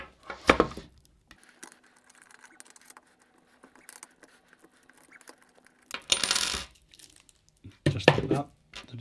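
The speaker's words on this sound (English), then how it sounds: "So we just pop this lid off this unit." A plastic lid pops off a Dahua SD4A425DB-HNY camera unit with short, sharp clicks and clatters. Separate bursts come at the start, near six seconds and near eight seconds, with quiet handling noise between them.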